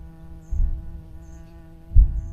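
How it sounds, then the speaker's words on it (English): An insect buzzes steadily in a forest on a battlefield, a thin continuous drone held close. Two low thumps break in partway through. "That's the sound of an insect, by the way, not a Russian drone."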